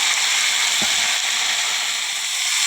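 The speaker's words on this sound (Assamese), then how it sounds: "এতিয়া ভালদৰে লৰাই দিছোঁ হাতা পাতেদি" Potatoes and tomatoes in oil are stirred with a ladle, giving a steady close sizzle and one short scrape of the ladle against the pan.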